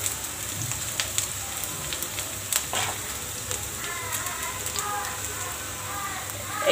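An egg and eggplant mixture poured into the middle of a hot pan fries with a moderate sizzle and scattered crackles, a faint voice occasionally audible beneath it.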